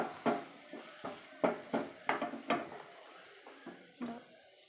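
Onions fry in a pan while a utensil stirs them in about a dozen distinct scraping, clacking strokes, some in quick pairs, over a faint background sizzle.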